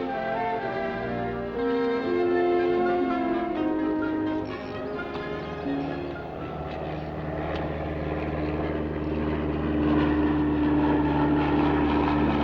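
Propeller airplane droning overhead in a forest setting, a steady loud engine hum that swells slightly and holds for several seconds with no talk.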